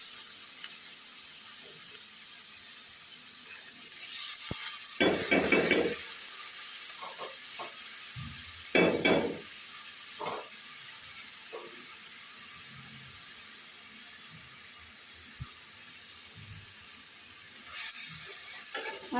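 Cut potatoes and pointed gourd sizzle in hot oil in a kadai. A steady close hiss carries a few louder spurts and crackles, with no talking.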